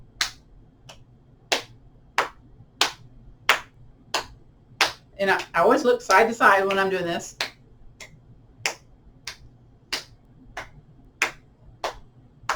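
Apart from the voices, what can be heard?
tapping cupped hand into the elbow pit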